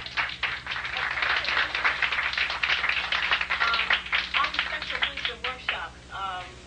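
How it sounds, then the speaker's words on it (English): An audience at a lecture workshop gives a round of applause, with a dense, steady crowd clapping sustained for several seconds before tapering off, and faint voices rising near the end. "We want to give Dr. Jewel another round of applause."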